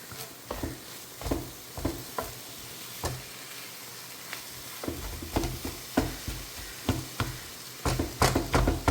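Crushed mint, coriander and curry leaves frying in a pan for a banana-flower vegetable cutlet, a steady sizzle with repeated scraping and tapping of a spoon that quickens toward the end, close and clear with no talk.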